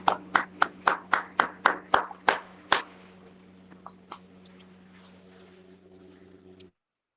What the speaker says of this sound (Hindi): आइए हम एक ऊंची ताली दे करके प्रभु की महिमा को और करते हैं